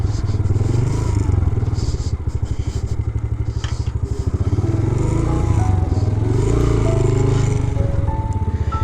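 A motorcycle engine idles with a steady close-up thrum as bikes are parked in the Yasin valley area of Pakistan, running loud throughout with faint clatter.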